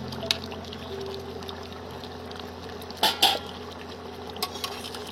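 Chicken curry with ghee stirred in a pot, quiet background hiss broken by a couple of short scraping, clattering bursts of a utensil against the pot near the middle and end.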